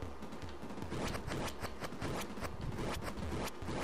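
Rapid bursts of gunfire crackle in quick succession over a dense background, loud and close, several shots within a few seconds, from the arcade game Rush'n Attack.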